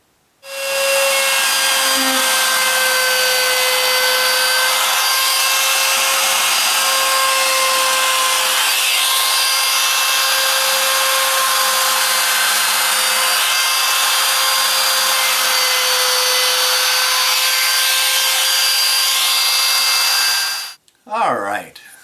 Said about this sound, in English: I'm going to use a 1/8 inch round over, and I'm going to run it all the way around